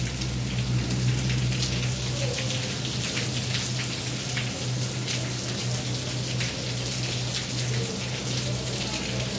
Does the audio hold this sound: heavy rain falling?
yes